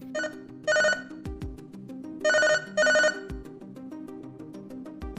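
A phone rings with an incoming call in an animated story, its electronic ringtone sounding in repeated bursts over a soft musical background.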